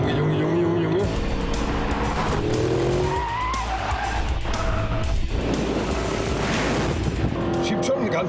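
A 407 PS BMW X6 accelerates hard, its engine revving up through rising gear pulls with tire squeal, loud and close, while people talk over it.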